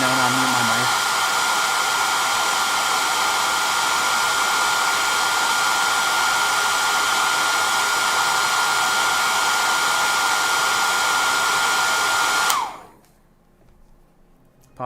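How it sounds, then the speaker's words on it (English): A hair dryer blows with a loud, steady whine and whoosh for several seconds, then clicks off, leaving near silence. "if the hairdryer's too loud or annoying, let me know"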